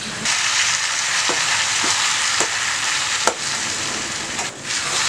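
A hand-pounded rice and green gram pongal mix fries in a pan with a dense, steady sizzle. A spoon knocks and scrapes through it every second or so, close and fairly loud, with no talking.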